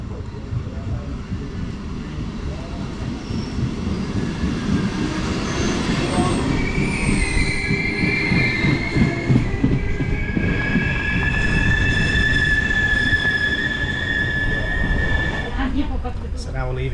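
A train rolls along the rails leaving Tortona, Italy, with a rumbling, clattering rhythm, and metallic wheel squeals rise and fade over the steady noise.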